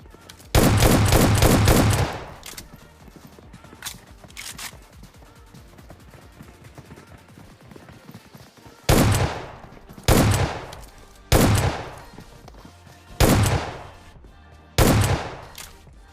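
Gunfire in a shooter video game: a long loud burst of automatic fire at the start, then five short sharp bursts spaced through the second half, with quieter game ambience between them.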